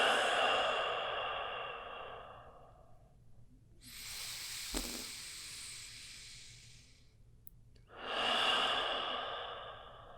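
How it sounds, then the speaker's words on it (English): Deep yoga breathing: a long, audible exhale, then a breath drawn in, then another strong exhale, each lasting several seconds, close and breathy with no talking. "And exhale it out."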